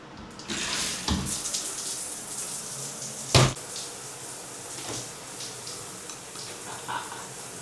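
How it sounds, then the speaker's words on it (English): A bathroom shower runs steadily, a continuous hiss of spraying water with a few brief knocks and thuds over the top. "I'm gonna go ahead and run the shower for 15 minutes"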